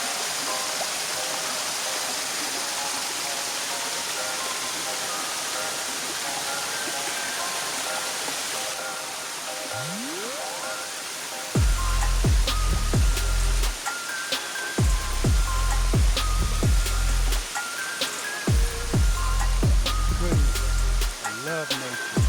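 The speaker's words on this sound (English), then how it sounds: "This waterfall is amazing." Rushing waterfall at Rainbow Springs gives a steady broadband roar, joined midway by loud rhythmic low thumps and some voices in the background.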